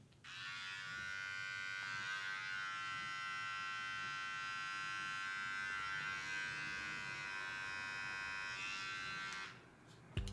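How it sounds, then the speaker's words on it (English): A hair trimmer styled like a Babyliss Gold FX runs alone with a steady, loud, high electric buzz for about nine seconds, then clicks off. "we gotta do the sound check on this trimmer"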